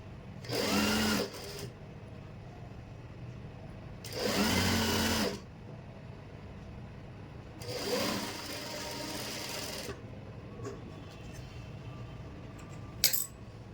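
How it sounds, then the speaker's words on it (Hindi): Three separate bursts of close sewing machine stitching on pants seams, each a loud, rapid chatter lasting about two seconds, separated by quiet gaps and ending with a sharp click. "इसी तरह से दूसरे आसन पर भी सिलाई लगानी है।"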